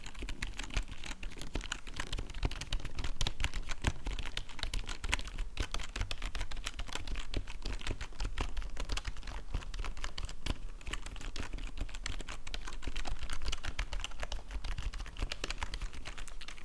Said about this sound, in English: your finger glides very smooth across the keyboard.